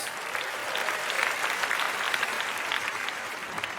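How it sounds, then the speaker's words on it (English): Steady applause from a TED talk audience honoring three stage helpers, dense and continuous clapping filling the hall at moderate distance for the whole stretch, with no voices standing out. "Give all 3 helpers a round of applause"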